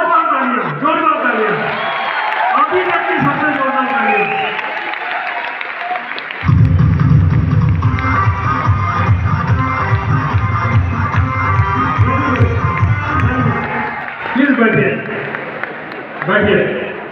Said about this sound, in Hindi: आपके लिए जोरदार तालियां, जोरदार तालियां, अभी तक की सबसे जोरदार तालियां।